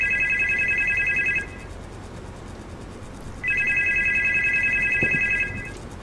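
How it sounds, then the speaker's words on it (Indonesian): A telephone rings with an incoming call in two long electronic trilling bursts separated by a pause, clear and fairly close over low room noise. "Telepon masuk, telepon masuk, telepon masuk, telepon masuk."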